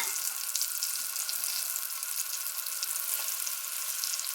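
Floured beef for Flemish beer stew sizzles in a hot pan, a steady close crackling hiss with small pops, with no voices.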